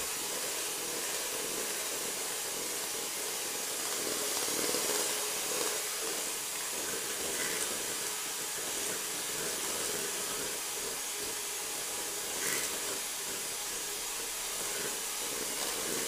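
An electric mixer beats buttery chocolate cake batter with margarine, sugar and egg yolks, a steady whirring hiss running continuously and evenly throughout, with no talk.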